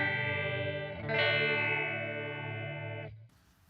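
A sustained electric guitar chord runs through a Walrus Audio Vanguard dual phaser pedal on its 4-stage setting, sweeping with a swirling, phased tone. It swells after a second, then decays and cuts off near the end.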